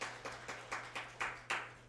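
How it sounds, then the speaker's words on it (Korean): A church congregation at a Sunday service claps in unison, with evenly spaced, fairly faint beats at about four per second over a low steady hum. "박수로 격려하겠습니다"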